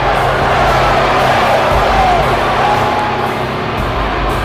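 Arena crowd at a Bridgeport wrestling show reacting to wrestler Lubok, a steady dense roar of many voices with scattered shouts and jeers, loud and continuous throughout.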